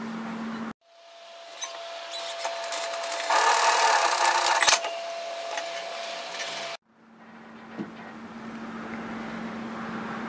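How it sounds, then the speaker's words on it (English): A sewing machine stitches a seam on a sun hat, a steady mechanical whir running for several seconds and growing louder midway, with a soft hum before and after. "Remember to back tack at the beginning and the end of the seam."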